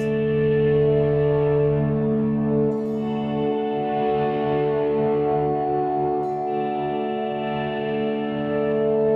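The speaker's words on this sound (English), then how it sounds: "You're mostly going to be doing volume swells for the first half of the song" Electric guitar volume swells: sustained chords swell in and ring out under washy echo and reverb, creating a soft ambient drone with slow, fading attacks.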